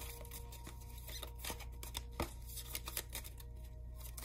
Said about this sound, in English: It's hard to shuffle these